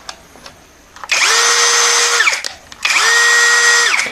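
A CANLIDI CID-80-S cordless clutch screwdriver on an MT-21V battery whirs in two loud bursts of about a second and a half each, with a rising motor whine and soft clicks before and between the runs.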